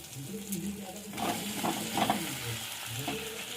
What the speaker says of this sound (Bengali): এই মশলার সঙ্গে আলুটা ভালো করে কষিয়ে নেবো একটু।